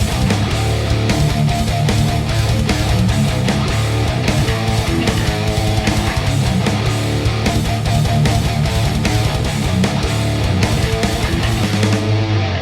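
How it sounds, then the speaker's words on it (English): Seven-string electric guitar pounding out tight, palm-muted thrash metal rhythm chops, loud and dense with fast chugging riffs and stabbing accents throughout, no talking. "we're gonna learn some 7-string metal chops that sound like this"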